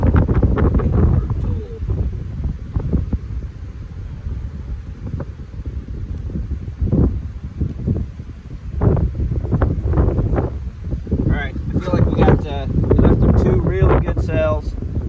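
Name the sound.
strong wind blowing outdoors at beehives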